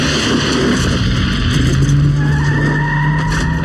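A car in a 1996 short film accelerates hard with tires skidding and squealing, a loud close screech over revving engine noise that rises and holds steady.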